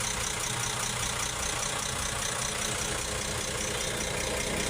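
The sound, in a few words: engine running after top overhaul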